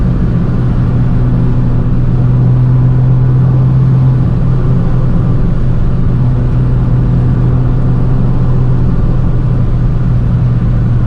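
Fiat 595 Abarth engine droning steadily from inside the cabin while driving on back roads, a loud, continuous low mid-range hum with road rumble and no talk.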